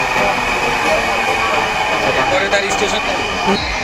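A Dhaka Metro Rail train rumbles steadily at a station, a loud continuous mechanical hum with people talking over it as passengers get off.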